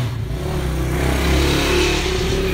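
Vehicle engines in the Free Fire video game rev loudly and steadily, a close, dense motor roar that swells slightly midway and carries on alone without speech.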